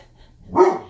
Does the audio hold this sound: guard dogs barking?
yes